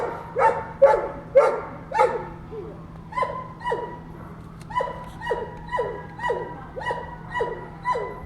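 Several dogs bark repeatedly, a few sharp barks at first, then a steady run of rhythmic barking at moderate distance.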